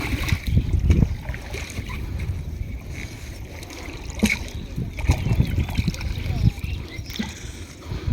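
A small boat moves across open sea, water sloshing and splashing against the hull in uneven waves, with a low rumbling wash throughout and occasional louder splashes, fairly close.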